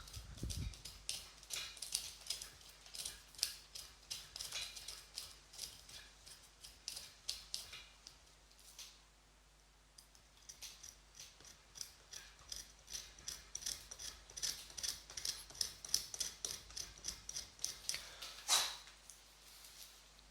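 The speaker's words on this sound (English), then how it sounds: "all of these little cracks which I did with the scissors gonna extend" Scissors crack the deadwood of a Scots pine bonsai in a dense run of small crisp cracks and snips, close and fairly quiet, irregular clicks repeating throughout with a brief pause near the middle.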